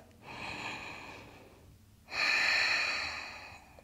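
Slow, deep breathing during a yoga flow: a soft, airy inhale followed by a louder, fuller exhale after a brief pause, close and alone with no talk.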